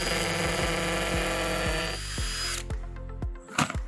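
A power drill whirs steadily with a rough, rhythmic chatter as it bores into wood, then winds down and stops near the end.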